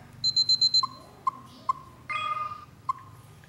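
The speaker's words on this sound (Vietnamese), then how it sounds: "Bấm phím bấm nè, nghe tít tít nè" Button beeps from a Canon PowerShot A2200 compact camera: a quick run of five short high beeps, then four single beeps spaced apart with a brief buzzy chirp between, close and clear in a quiet room.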